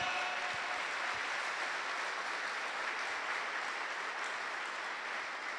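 Church congregation applauding together in a steady, dense wash of clapping that holds at an even level throughout, with no voices heard above it.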